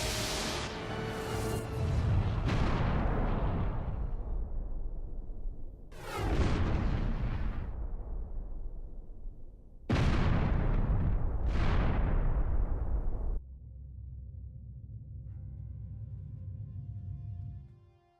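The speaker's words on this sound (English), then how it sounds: "Incoming fire from the unknown vessel." Heavy weapon fire from an unknown enemy vessel hitting a ship in the space RPG Star Ocean: The Last Hope, four or five big booming blasts with long rumbling decays, then a low sustained hum, loud and without speech.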